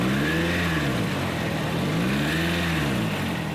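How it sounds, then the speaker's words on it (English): A freshly assembled car engine idles on the line at Toyota Australia's factory, running loud and close with a steady drone whose pitch rises and falls slowly as it revs gently. "When we start a motor up, it makes a certain noise"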